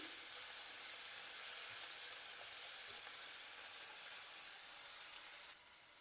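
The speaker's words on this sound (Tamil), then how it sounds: "இப்போ இந்த பாவக்காய் கொஞ்சம் பொறிஞ்சு கொண்டு வருது" Bitter melon pieces fry in a pan with a soft, even hiss that holds steady at low volume and then drops a little near the end, with no voices.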